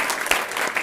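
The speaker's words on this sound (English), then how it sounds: "give yourself a big round of applause" Brief burst of audience applause at a city council meeting, a short wash of clapping hands with no voices.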